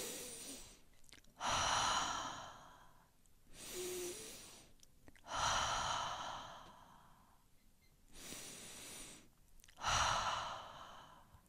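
Slow, deep breathing during a breathwork exercise: five long airy exhalations like sighs, evenly spaced with quieter inhalations between, close and intimate with no talking.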